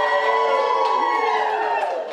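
At a watch party for an Olympian from Wilson, a room of friends and family cheers loudly, a dense roar of overlapping shouts and whoops that holds steady before dropping slightly at the end.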